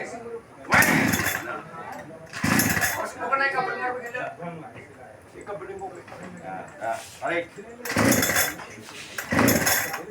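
Pull-cord starts of a small engine outdoors by a reservoir, several loud harsh bursts as the cord is yanked, with people talking in between.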